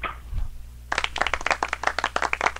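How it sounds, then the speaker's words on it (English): Crowd applause at a Rays baseball game, a dense burst of many hands clapping that starts abruptly after a brief quiet lead-in and continues steadily to the end, fairly close and loud. "We'll give them some applause"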